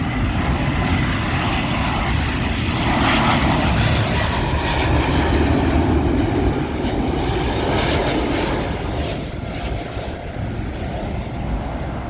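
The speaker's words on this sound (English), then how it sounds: "Next up we got American Airlines Boeing 777 arriving in from LAX" An American Airlines Boeing 777 arriving from LAX lands at Heathrow's runway 27L, its engines a loud, broad roar that swells and holds for the whole stretch before easing slightly near the end.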